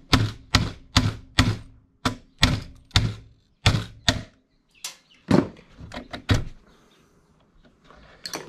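Rapid metal-on-metal knocks ring out as a screwdriver is hammered to drive a part out of a sewing machine being scrapped, about a dozen loud strikes in a steady rhythm, then scattered lighter taps and clatter.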